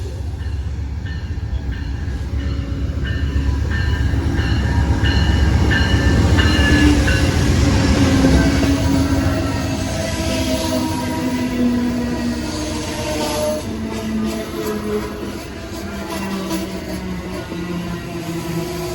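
Amtrak passenger train 281 rumbles past Depew station at close range, steady wheel noise and rail clatter filling the whole stretch, with faint squeals riding on top.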